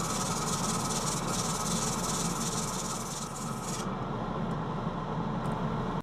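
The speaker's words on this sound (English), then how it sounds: "I hand sand after each grit to get rid of concentric scratches." Continuous abrasive hiss of sandpaper pressed by hand against a wooden holly candle holder spinning on a lathe, steady and loud with the lathe's hum beneath, the bright scratchy edge easing partway through.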